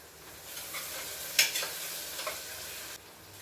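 Green chilies, onion and curry leaves frying in hot oil give off a soft continuous sizzle with a brief burst of crackling spatter midway, heard close and quiet with no voices.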